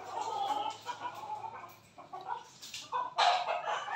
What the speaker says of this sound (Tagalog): Tapos ito yung Boston Roundhead natin.